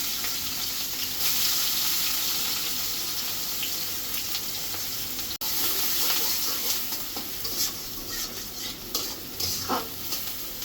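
Onion and chili frying in a pan for a greens dish, a continuous bright sizzle with stirring scrapes throughout and a momentary break midway.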